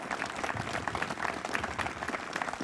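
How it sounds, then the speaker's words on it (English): Crowd applause at an outdoor Irish miners' memorial ceremony follows a blessing, close, busy clapping with individual claps audible throughout a few seconds. "Could we have a round of applause for Cassandra?"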